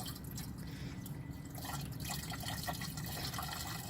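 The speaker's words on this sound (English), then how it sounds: "just line up your container over the top of this and start pouring it in." Washer fluid trickles and drips steadily from a container into a car's windshield washer reservoir, a soft, close liquid pour that continues without pause.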